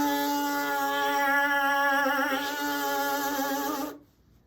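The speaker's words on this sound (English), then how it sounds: "we're going to start that buzzing noise and then bring the mouthpiece up to it" Lips buzzed into a trombone mouthpiece, giving a close, steady, nasal buzzing tone that wavers slightly in pitch and stops abruptly after about four seconds.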